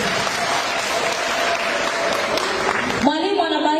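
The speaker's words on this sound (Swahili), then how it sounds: "tuwapigie makofi mengi sana walimu" Audience applauding teachers: dense, steady clapping fills the room for about three seconds, then cuts off abruptly into a voice speaking.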